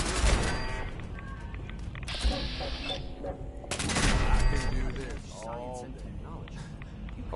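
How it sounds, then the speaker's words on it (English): Rapid bursts of laser turret fire in Fallout 4 crackle in dense volleys, with a louder cluster near the start and another midway, under ongoing game noise and speech. "All that racket from a laser turret?"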